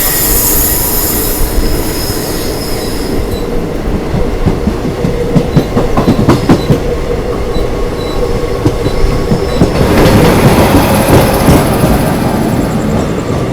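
A special summer passenger train on the Prayagraj–Dadri route speeds up on the rails with a steady, loud rumble and rhythmic clickety-clack. Wheels squeal and the noise grows stronger toward the end.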